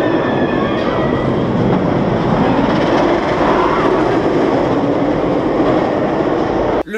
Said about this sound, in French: Le bruit typique d'un BM en nylon